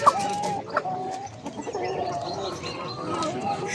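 Chickens, including Brahma and blue-egg hens, cluck and murmur at a busy poultry market in Edirnekapı, with scattered nearby calls over a low crowd hum.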